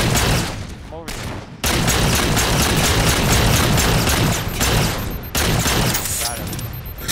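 Rapid pistol fire in Halo 4, a dense run of sharp, close shots filling several seconds with two short pauses, over a busy game soundscape with a voice talking now and then.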